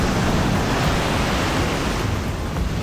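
Ocean surf at a popular surfing beach in Elyu, La Union, with waves surging near the shore in a steady, loud, continuous roar and wash. No speech over it.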